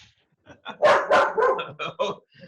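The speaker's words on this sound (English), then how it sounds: "Hopefully that pack of dogs that's attacking Hathaway" A pack of dogs barks in a rapid, overlapping burst of loud barks and yips, close and continuous for a couple of seconds.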